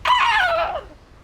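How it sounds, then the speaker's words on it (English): A single loud, harsh bird call rings out up close, a brief descending shriek that tails off within about a second, with no talk over it. "It was a fucking loud-ass bird"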